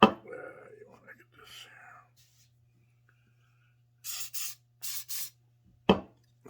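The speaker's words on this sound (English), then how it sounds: "Spray a little of that on there." Short bursts of aerosol spray, likely glue accelerator, hit super glue on a wooden ant model: three or four quick hissing puffs, close and fairly loud, following earlier soft handling noises and faint speech, with a steady low hum throughout.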